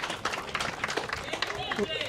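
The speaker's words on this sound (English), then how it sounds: "So give Combined Schools a round of applause for being the fourth place team." Applause and clapping from an audience at the ABCA VAX 8 finals awards, greeting the fourth-place team, Combined Schools; dense, steady clapping over about two seconds with voices mixed in.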